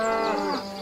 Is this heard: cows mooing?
yes